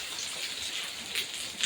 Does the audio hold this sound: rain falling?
yes